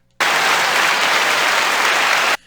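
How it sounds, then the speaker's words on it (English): Canned studio-audience applause sound effect, a dense burst of clapping that starts abruptly, holds at an even loud level for about two seconds, then cuts off sharply. "That's the same clap line that I hear on the late night shows every night"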